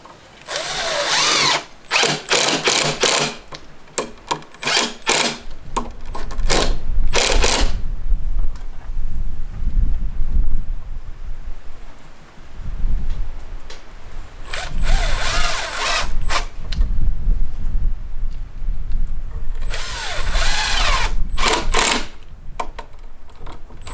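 A power drill repeatedly whirs and strains as it drives 2.5 inch screws into a wooden butcher block table, loud bursts alternating with short pauses and clattering handling noise, no talking.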